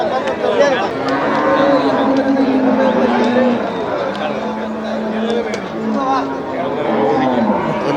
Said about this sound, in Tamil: இது வண்டி மாடா வண்டி மாடு வண்டி மாட்டுக்கு பழகுனது